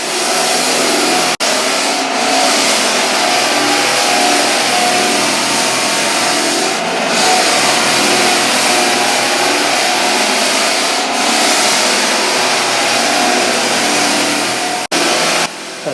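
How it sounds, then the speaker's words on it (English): Floor edging sander working along the edges of a hardwood floor near the woodwork, a loud continuous motor roar with grinding abrasion, briefly cutting out near the start and end. "This is the smaller sander that we're going to use to go around and do the edging very close to the woodwork itself"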